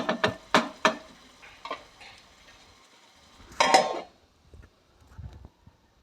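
Onions being stirred in a pan, with a few sharp utensil clinks and scrapes against the metal at the start, a longer scraping stir midway, and quieter taps after, all close with no talk.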